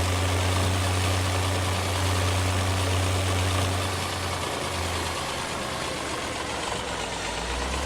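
A small tractor engine idles steadily in Farming Simulator 17, a continuous low droning hum with a strong low pitch, loud and alone, shifting slightly in tone partway through.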